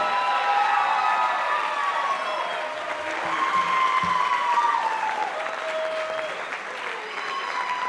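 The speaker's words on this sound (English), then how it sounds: "Give these percussionists a big round of applause." An audience at a school percussion show breaks into sustained loud applause and cheering, steady massed clapping with shouts and whistle-like cries mixed in throughout.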